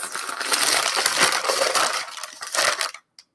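Glassware being unwrapped from packing paper during a mystery box unboxing, giving continuous loud paper crinkling and rustling that stops abruptly near the end, followed by a faint brief clink.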